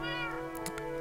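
Cat in the Minecraft video game giving a single short, clear meow over a steady background hum.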